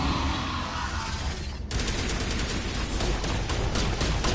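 Dense, continuous gunfire from the video game Mass Effect, a loud rattling volley that starts abruptly and keeps going without a break, with a whooshing rush just before it.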